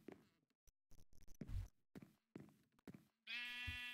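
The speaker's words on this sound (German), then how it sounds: "Das mähendes Tier, ein Schaf." Sheep bleating in the Minecraft video game, a single clear bleat heard alone at the end after a stretch of scattered clicks and thumps of gameplay.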